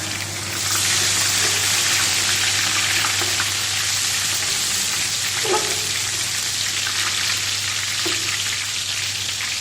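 Garlic and ginger go into onions frying in oil for chicken yakhni pulao, a loud steady close sizzle with a low hum beneath and a couple of soft stirring knocks, no talking.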